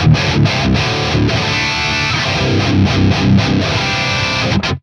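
Electric guitar through a dual rectifier amp preset in the STL Tones AmpHub plugin, played as heavy, densely distorted chords that ring continuously for about five seconds before cutting off, loud and close with no voices.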